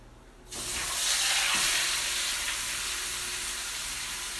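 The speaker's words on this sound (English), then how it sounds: "I'm going to be cooking the ground turkey, which I can throw in there right now" Ground turkey tossed into a hot pan during meal prep hits with a sudden onset of loud, steady sizzling that holds at an even level to the end.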